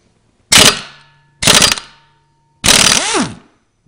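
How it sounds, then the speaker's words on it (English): Pneumatic impact air tool hammering at a flywheel bolt on a 1995 Suzuki G16A engine, three loud separate rattling bursts, the last one longer with a rising whine, close up and with no talking. "My impact air tool should pop right off."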